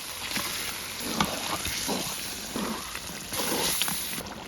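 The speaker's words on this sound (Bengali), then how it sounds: "মশলাটা ভালো মতন কষানো হয়ে গেছে, এখন মাংসটা দিয়ে দিমু।" Chicken pieces fry in a pan of cooked-down spice masala, a dense hissing sizzle with intermittent stirring and wet sloshing bursts, close and without speech.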